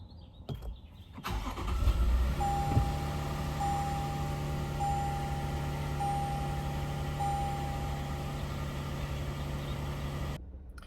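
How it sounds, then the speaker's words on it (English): A 3.4L twin-turbo V6 in a 2022–2026 Toyota Tundra cranks and starts after an oil change, then settles into a steady close idle with a faint whine before cutting off. "now we're gonna start the truck up and let it run for a minute, check for leaks"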